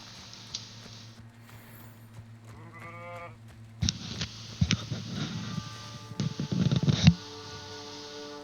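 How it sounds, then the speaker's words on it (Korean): A goat in the Hogwarts Legacy video game bleats in a short wavering cry midway through, after quiet ambience. Louder soft scuffing and patter sounds follow nearby. "염소다."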